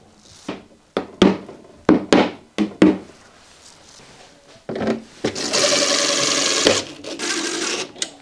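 A power drill drives into drywall to set an anchor for a dryer vent filter, first as several short taps, then as a steady loud whir lasting a couple of seconds.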